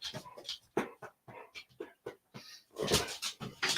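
A dog whimpers and whines close by in a run of short, uneven cries and soft yips broken by brief pauses, rising to a louder stretch near the end.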